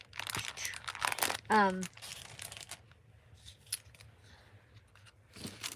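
Scissors snip through paper for a journal in a short, crisp burst of cuts, close and clear, with quieter rustling and handling sounds around it.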